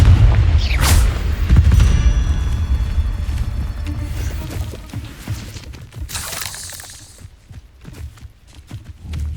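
Fiery Confringo blast spells go off in Hogwarts Legacy, loud booming bursts over low rumbling battle noise, with crackling impacts and a bright hiss partway through.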